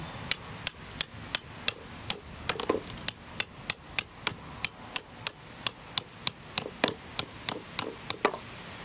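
A steel anchor for a JT Eaton top loader bait station is hammered into the ground with a steady run of about two dozen sharp, ringing metallic blows, evenly spaced and close, with no talking.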